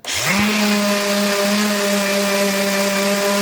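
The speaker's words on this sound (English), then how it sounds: "we're just using a 60 grit on the palm sander" Palm sander with 60 grit paper working on two wooden wing pieces clamped face to face: a loud, close, steady motor whine that spins up quickly and then holds an even buzzing hum.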